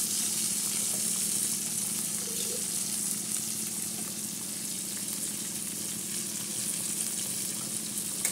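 Sponge gourd tadka with salt frying in a pan, a dense continuous sizzle heard up close throughout, no talking.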